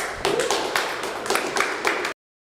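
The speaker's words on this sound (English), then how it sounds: "Why are you clapping for him?" A debate-show audience breaks into brief applause, a dense patter of many hands clapping at close range that ends abruptly after about two seconds.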